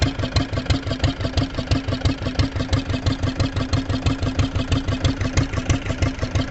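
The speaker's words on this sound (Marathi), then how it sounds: "बघा होडी आपली इथं बंदरात आली आहे" A fishing boat engine arriving at a harbour on a creek during monsoon fishing chugs with a steady, rapid rhythmic thump, close and loud, with no voices.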